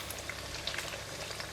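Firm tofu fries in hot oil with a steady, dense sizzle and scattered crackling pops. The sound is close, continuous and fairly loud, and no voices are heard.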